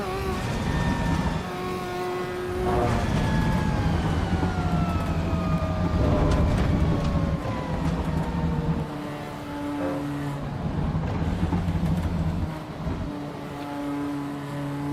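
Mazda 787B race car in Assetto Corsa EVO, a loud high-pitched engine sweeping up through the revs and dropping between shifts, then settling into lower steady tones, with no one talking.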